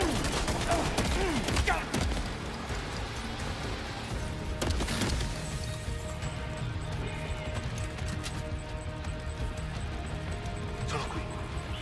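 Gunfire in Death Stranding 2, a few sharp shots at the start and around the middle over a busy game soundscape, with a rumbling bed and scattered clatter after them.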